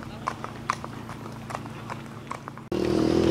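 Horses carrying riders arrive with irregular clip-clopping hoofbeats at moderate distance, a faint engine hum underneath, before a louder, harsher noise cuts in near the end.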